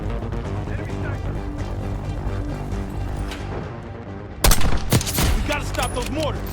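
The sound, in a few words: enemy sniper gunfire in Call of Duty: Black Ops 6 video game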